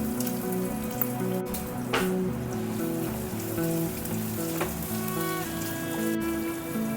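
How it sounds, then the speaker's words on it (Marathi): Onion fries in hot oil with cumin for a soybean pulao, a steady low sizzle with small crackling pops over a dense hiss, quiet and close, with no speech. "कांदा घातल्यावर गॅसची फ्लेम पुन्हा मिडियम करायची आणि तो असा फ्राय करून घ्यायचा"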